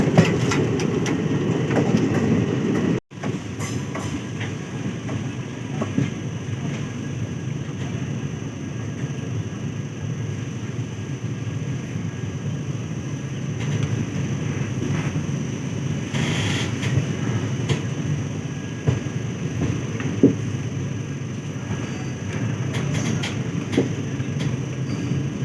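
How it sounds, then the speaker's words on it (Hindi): Interior rumble of the Howrah–Kathgodam Bagh Express as it enters Bachhwara junction, a steady low roar of wheels and carriage noise with a brief sharp dropout near the start and faint clanks later. "अब अपनी ट्रेन बछवाड़ा में इंटर कर रही है"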